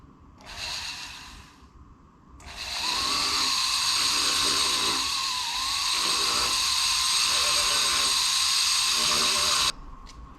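A high-pitched rotary carving tool whines steadily, with a short burst first, then a long continuous grinding buzz that wavers slightly as it works driftwood.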